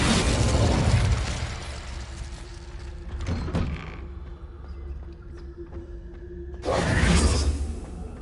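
The Incendio fire spell is cast in a video game: a loud burst with a rushing whoosh, then a quieter crackling, clicking stretch, and another strong surge near the end.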